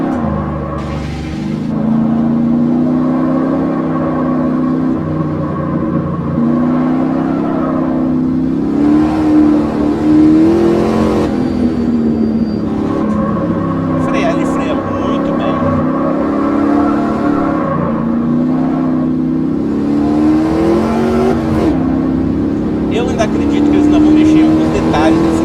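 A car engine in the Automobilista 2 racing game, set to run on only four cylinders, revs and accelerates in repeated rising surges under steady commentary from a man.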